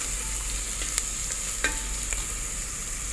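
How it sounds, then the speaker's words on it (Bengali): Green chilies and onions stirred in a hot frying pan for a white peas pulao, a continuous sizzle with a few sharp spatula scrapes and taps. "তো আমি ওটাকে ভালো করে মিশিয়ে নিচ্ছি পেঁয়াজের সাথে"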